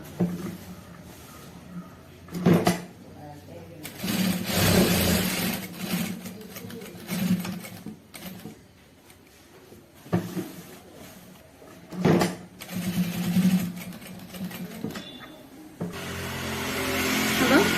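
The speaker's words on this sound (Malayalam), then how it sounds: "നമുക്കത് സ്ക്വയർ ആക്കി സ്റ്റിച്ച് ചെയ്ത് എടുക്കാം." Sewing machine stitching a square box pattern on a uniform coat, its motor running in several bursts of a few seconds each with short pauses and handling noises between.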